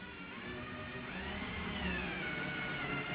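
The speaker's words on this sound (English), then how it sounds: "and then just drill it like you're putting a screw in." A power drill driving a butterfly anchor into drywall, a steady faint whirring motor drone running continuously for a few seconds, with no speech.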